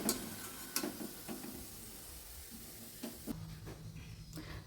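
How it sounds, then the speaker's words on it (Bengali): Cauliflower florets fry in hot oil for gobi chilli, giving a soft, continuous sizzle with occasional sharper scraping clicks from stirring; fairly quiet overall. "এভাবে আমরা সমস্ত ফুলকপিগুলোকে ভেজে তুলে নেব।"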